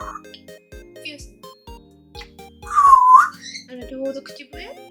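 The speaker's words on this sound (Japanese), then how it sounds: "上手口笛。" A grey parrot whistles a bright rising-and-falling phrase near the middle, loud and close, while people chat around it with intermittent tonal chirps.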